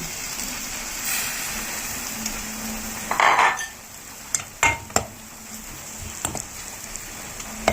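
Beaten egg is poured into a pan of cooked tomatoes, with a soft sizzle followed by a few sharp clinks of a utensil against the pan and some brief scraping, close and with no talking.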